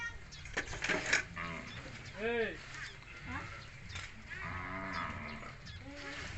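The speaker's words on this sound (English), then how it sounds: "There's a whole bunch crossing over there. There's a lot of them." Cows crossing in a Cambodian village low with several drawn-out moos at moderate distance, spaced irregularly among soft outdoor background noise.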